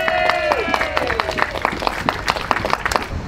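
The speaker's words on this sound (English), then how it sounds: "So give yourself a clap for that." A crowd at an outdoor rally against smart cities in Berwick, Melbourne claps in a loose, moderately paced pattern, with a voice and whistle-like tones over the start.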